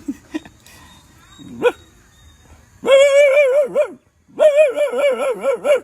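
A dog barks and yips close by, a few sharp barks early, then long runs of loud, wavering barking and whining.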